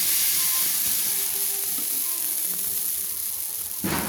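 Palm pitha batter sizzling on a hot griddle, a dense steady hiss running throughout with a sharper burst of sizzle near the end.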